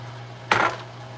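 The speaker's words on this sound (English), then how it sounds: "I gotta start seasoning the skillet." A skillet clanks once, sharp and brief, while being seasoned with avocado oil in a kitchen, over a steady low background hum.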